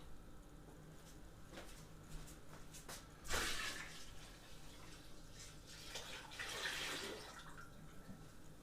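Liquid grape juice syrup poured into a barrel while making home wash; a faint watery trickle with brief louder splashing bursts in the middle and near the end, quiet overall.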